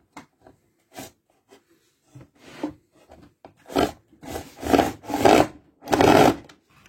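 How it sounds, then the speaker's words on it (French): Screwing back planks onto wooden battens for a workshop cart, starting with faint scattered clicks and rubs, then building to several loud grinding bursts of screws driven into wood, close up with no talk. "on peut venir le visser. Visser nos planches de derrière."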